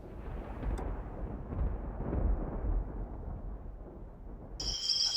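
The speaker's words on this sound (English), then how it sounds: "hearing the thunder roll, I'll do well not to get wet" Distant thunder rolls through mountains near Kanchenjunga as a faint, low, continuous rumble lasting several seconds, ending with a short, brighter sound.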